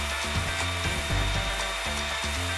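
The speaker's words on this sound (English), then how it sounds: "we're gonna be sanding down the boards" A power sander whirs continuously against wood, its buzzing tone shifting in short rhythmic strokes as it moves back and forth, with no voices.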